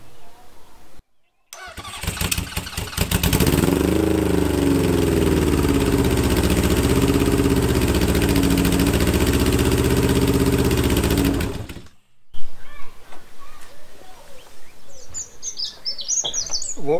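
A Honda CB750 cafe racer project bike, unfinished and untested, fires up and runs with a steady, loud engine drone for about ten seconds, then cuts off, leaving quieter background sounds with faint bird chirps.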